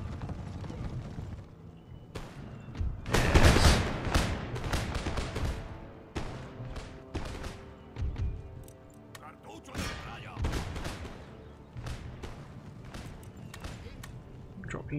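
In Empire: Total War, galloping cavalry hooves clatter steadily while scattered musket shots crack and pop in bursts, a busy battle din with no talking.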